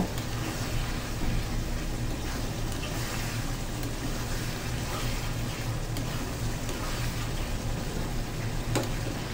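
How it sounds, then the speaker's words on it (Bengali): Chicken pieces fry in a pan for a home-style dhaba chicken curry as they are stirred, a continuous close sizzle with an even, dense hiss throughout. "মাংসগুলো কিছুক্ষণ নাড়তে থাকবো"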